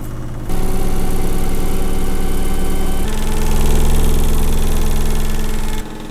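A modern washing machine spins its drum, giving a loud, steady mechanical hum and vibration with a rattling drawer that swells slightly in the middle before the sound drops away near the end.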